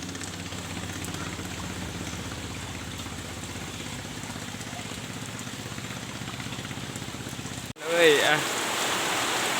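Rain pours steadily at Cirata reservoir during a fishing trip, a close, even hiss of drops throughout, ending with a sudden jolt and a short exclamation from a man.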